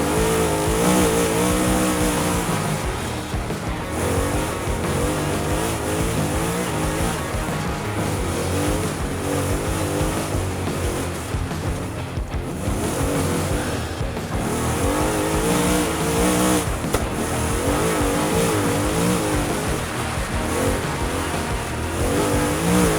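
A trophy truck drives fast with a steady roaring engine and rumble, sustained and loud without a break for over twenty seconds, close to the listener.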